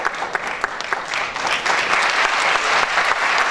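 A concert audience applauds the orchestra at a spring concert, with dense, loud clapping that builds and continues steadily throughout.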